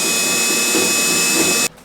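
A drill fitted with a pilot bit grinds steadily into a car body spot weld, a loud continuous high whine that holds for nearly two seconds and then cuts off abruptly, with no talking.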